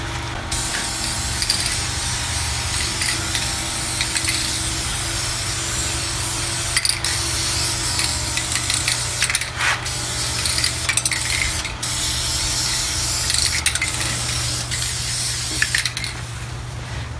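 Black spray paint hisses steadily onto the engine bay of a 1970 Ford LTD, a continuous close spray broken by brief pauses and clicks of the can.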